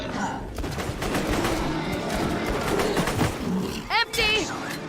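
Rapid bursts of gunfire from the video game Borderlands crackle through a dense, busy in-game soundscape, while a player talks over the action.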